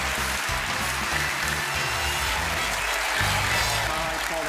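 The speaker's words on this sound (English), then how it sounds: "please give Claudette a huge round of applause as she makes her way to the stage" A large television studio audience at a magic show claps steadily for a woman heading to the stage, dense sustained applause that stays loud and even throughout.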